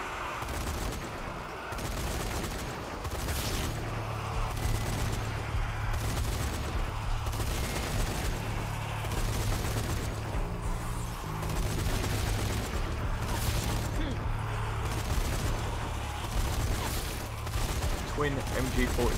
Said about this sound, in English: Twin MG42.